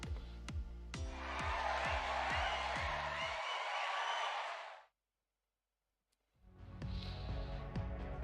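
A roaring crowd cheers for a band performing at a tournament in a video game, the broad wash of voices rising over a rhythmic musical beat before cutting to silence, then the music resumes.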